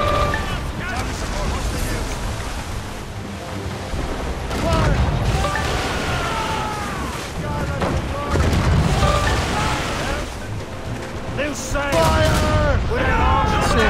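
Naval cannons boom during a ship battle in the video game Assassin's Creed Rogue, heavy volleys and rumbling blasts running throughout under shouted crew voices.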